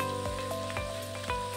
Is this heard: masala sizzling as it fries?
yes